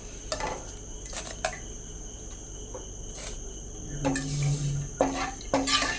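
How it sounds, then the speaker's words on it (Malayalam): Fried curry leaves being lifted from hot oil in a pan while making Kerala-style ginger curry: intermittent metal scrapes and clinks over a steady low sizzle, with a brief louder rattle near the end. "കരിവേപ്പില എല്ലാം നമുക്കൊന്ന് കോരിയെടുക്കാം"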